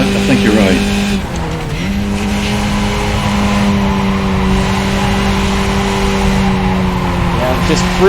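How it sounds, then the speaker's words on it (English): A race car drifts through a turn on a Japan circuit in a racing video game, its engine droning loud and steady with tires squealing throughout, and someone talks over it. "Just freaking drifting on this turn."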